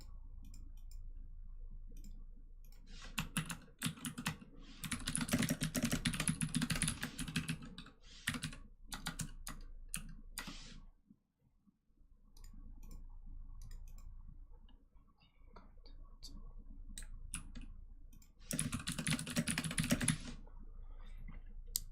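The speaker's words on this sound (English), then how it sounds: "This one is actually blue switches, but I feel like it's not clicky enough" Typing on a mechanical keyboard fitted with blue switches: bursts of rapid, fairly soft key clicks at close range, with short pauses between runs of keystrokes and no talking.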